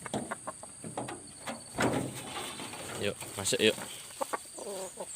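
Chickens clucking and calling at a village yard during morning feeding, short bursts of fowl sounds mixed with a rooster-like call, under and between a person's voice urging them in.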